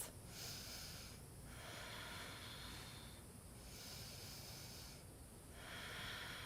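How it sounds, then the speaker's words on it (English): Deep breathing during a yoga bow pose, slow rhythmic breaths of long airy inhales and exhales repeating about every two seconds, quiet and close with no talk. "2 deep breaths"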